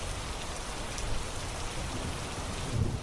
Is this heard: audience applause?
no